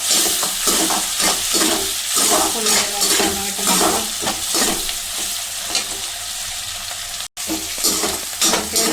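Chillies and golden-browned onion frying in a pan for potato-eggplant sabzi, a loud close sizzle with frequent spoon scrapes and stirs against the pan, steady throughout apart from a momentary cut.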